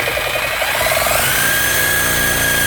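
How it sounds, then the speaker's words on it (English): A Sawzall fitted with a wood-cutting blade saws through a BMW 335i radiator shroud, a loud, continuous, buzzing mechanical drone with a faint whine running underneath. "Got a wood cutting Sawzall blade here."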